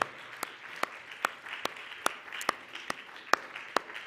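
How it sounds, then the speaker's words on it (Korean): Rhythmic clapping from a church congregation during a Sunday service: sharp, evenly paced claps roughly twice a second over a faint room background, moderately quiet. "박수를 좀 그만 쳐도 괜찮겠어요?"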